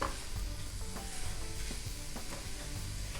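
Spiced grated radish filling for mooli paratha sizzles in a pan over high flame, with steady frying crackle and occasional scrapes of a spatula stirring it, close and continuous.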